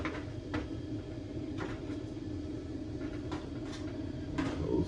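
Lid of a PatioGem outdoor pizza oven swung shut, a few soft knocks and clunks over a steady low background rumble.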